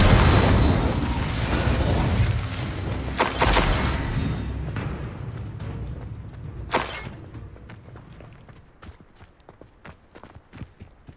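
Incendio fire spell cast in Hogwarts Legacy: a loud fiery burst that erupts at once, then fades into crackling pops, clattering debris and scattered sharp impacts.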